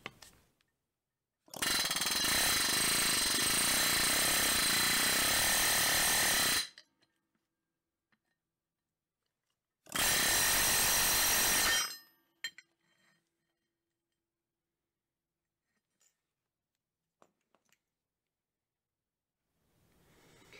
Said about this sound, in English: This air hammer got a little too much oomph for this.